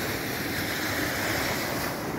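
Big ocean waves breaking on the beach at Deauville under a night sky, a dense continuous roar of surf and wind, loud and steady with no pauses.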